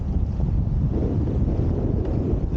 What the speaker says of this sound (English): Here's a good gust.